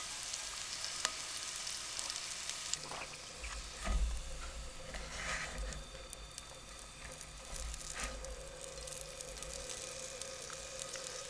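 Food frying in a pan at a desert campsite, a steady broadband sizzle running throughout with a brief louder burst and low thump midway, close and moderately quiet, with no one speaking.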